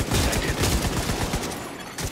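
Rapid, sustained automatic turret gunfire in The Division game, a dense close burst of shots running nearly continuously with a slight drop near the end.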